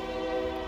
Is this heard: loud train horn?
yes